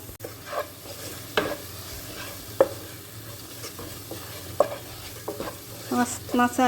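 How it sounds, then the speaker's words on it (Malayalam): Ingredients for a Kerala-style botti and kappa dish frying in a pan, with a steady sizzle under intermittent scraping stirs and a few louder clinks of the spoon near the end. "നന്നായി ഒന്ന് മൂക്കട്ടെ കേട്ടോ"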